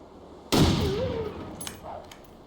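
One loud, sharp gunshot fires in the survival video game The Long Dark, followed by a fading echo and a few faint clicks, with no talking.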